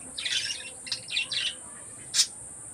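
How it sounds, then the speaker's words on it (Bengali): Faint high-pitched peeping calls of baby bird chicks inside a clay pot nest, coming in several short bursts with small gaps, over a steady background hiss. "মনে হচ্ছে ডাক, ছোটো বাচ্চার মতন ডাক শোনা যাচ্ছে।"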